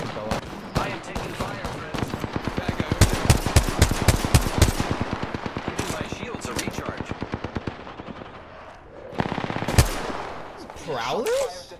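Loud automatic weapon fire in the Apex Legends battle royale: long rapid bursts of closely spaced shots over several seconds, then a pause, another short burst, and a voice talking underneath.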